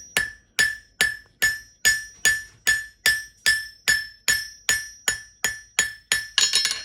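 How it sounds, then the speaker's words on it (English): A blacksmith hammers a forged steel leaf on an anvil, about fourteen sharp ringing strikes in an even rhythm, each with a bright metallic ring that decays quickly, the last few closer together. "Now we're turning her over with a round face to the hammer"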